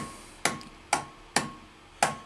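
Four sharp taps on the chassis of a Mesa Boogie Caliber 50+ guitar amplifier under repair, struck at an even pace about half a second apart, each a crisp knock with a short decay and no crackle following.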